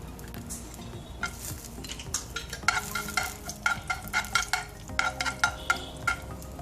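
Cashew nuts frying in ghee in a pan, with a steady sizzle and repeated scraping and stirring clinks of a utensil against the metal, close and fairly loud, no talking.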